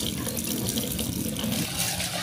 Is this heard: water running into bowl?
yes